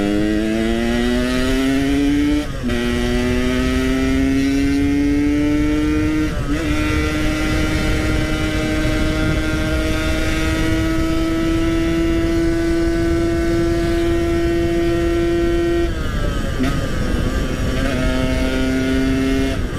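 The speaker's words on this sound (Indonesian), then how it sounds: "Motornya kasian banget dipaksain ya." A motorcycle engine strains hard while riding through Jakarta streets, its loud, steady drone climbing in pitch through several gear changes, close and continuous with no talking.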